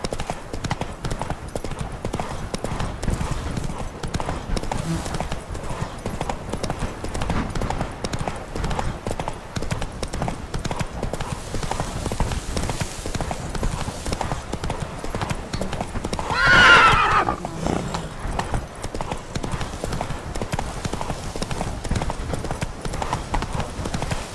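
The horse Roach in The Witcher 3 clip-clops steadily through the whole stretch, its hooves close and rhythmic, with one loud neigh partway through.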